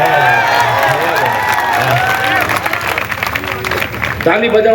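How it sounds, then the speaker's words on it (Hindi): Audience at a poetry recital by a poet in Rewa clapping and cheering, a steady wash of applause with shouts and voices throughout, fairly loud and close. "ताली बजाओ"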